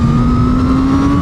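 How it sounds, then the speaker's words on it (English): Engine note of a 2021 Honda Fireblade CBR1000RR-R SP as its exhaust valve opens under acceleration, a loud, close, sustained mid-pitched drone with a steady tonal hum throughout. "you can actually hear the exhaust opening up a little bit there"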